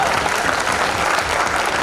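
Dense, steady applause rolls from an audience at a Hindi comedy poetry gathering, a full crowd clapping continuously and loudly for the whole short stretch.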